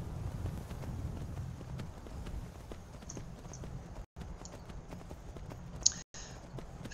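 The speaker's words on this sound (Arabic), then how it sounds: "الخيول بسكايرم ما عندها مشكلة، يعني كأنها ماعز بري بتطلع على كل الجبال." Horse hooves in Skyrim clop steadily at a running pace on rough mountain ground, close and continuous with faint wind, two brief dropouts in the sound.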